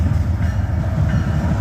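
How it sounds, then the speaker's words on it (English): A short freight train with two engines and three cars rolls past close by, a loud steady rumble with rhythmic wheel clatter over the rails. "It's a little short train, 2 engines, 3 cars."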